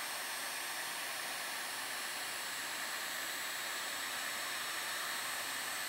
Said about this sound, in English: that heat sink wrap will get nice and tight around there